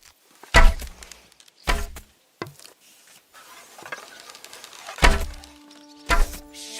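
Arrows strike an archery target in Kingdom Come: Deliverance II, several sharp separate thunks spaced a second or more apart, loud and close, with quiet in between.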